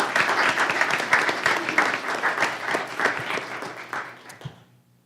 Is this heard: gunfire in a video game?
no